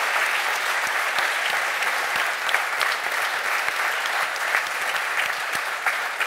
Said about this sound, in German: Einmal einen Applaus dafür, sehr, sehr stark.